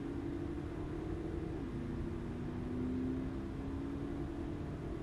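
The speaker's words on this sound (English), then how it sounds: "That was an Explorer making all that noise." A highway patrol Ford Explorer's engine in American Truck Simulator drones steadily in a low rumble, its pitch shifting slightly as it passes, with no voices present.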